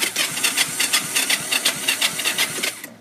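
A Honda 200e three-wheeler being cranked without choke, a rapid run of rhythmic cranking pulses and sputters over about three seconds, close and loud, then cutting off.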